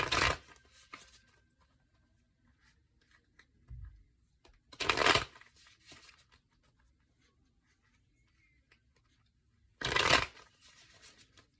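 Tarot cards are shuffled in three brief, crisp riffling bursts separated by long quiet gaps, close and distinct with faint handling noises between.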